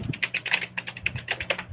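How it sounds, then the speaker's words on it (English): Rapid, close typing on a computer keyboard, a quick irregular patter of crisp key clicks heard alone. "Could you hear me typing just now?"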